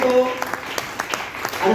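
A poetry gathering audience gives a short round of applause, scattered claps rising briefly between spoken voices.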